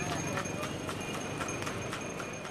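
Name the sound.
horse hooves clip-clopping pulling a hired horse cart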